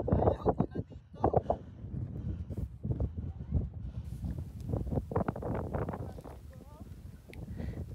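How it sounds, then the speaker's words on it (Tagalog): Strong, cold wind buffets the microphone outdoors at Khor Virap Monastery in Armenia, a steady rough roar with gusty bursts throughout, while people talk nearby. "Kaya lang sobrang lakas ng hangin"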